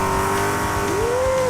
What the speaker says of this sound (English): That is a good sounding Ford right there, Ken Herring.